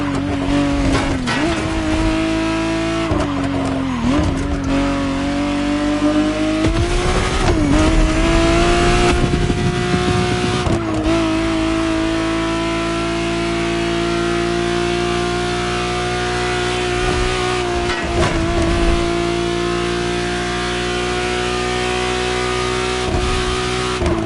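A 1991 Ferrari Testarossa 512 TR flat-twelve in Motorfest, loud and close, droning at high revs with repeated gear shifts and rev dips, plus occasional tire squeal.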